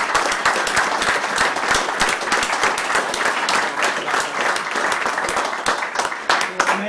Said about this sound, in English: I would like all of us to just give a round of applause to someone who we're recognizing